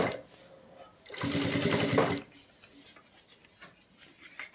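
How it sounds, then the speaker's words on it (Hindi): A sewing machine stitches fabric in a short loud burst of about a second, with quieter handling noise and a voice before and after. "ये हम बैठी सिलाई लगाएंगे"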